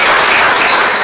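Church congregation in Cimahi applauding together, a dense, steady wash of clapping that fills the whole moment at close range with no voices over it.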